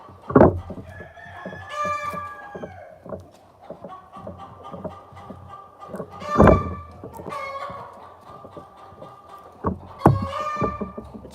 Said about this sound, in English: The chickens are what you hear all day long, Rachel, like nonstop.